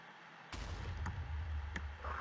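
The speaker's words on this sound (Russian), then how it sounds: "Взрыв не такой сильный был." A booming explosion in the game Minecraft hits suddenly after a moment of quiet, leaving a heavy low rumble with a couple of sharper cracks following, no talk.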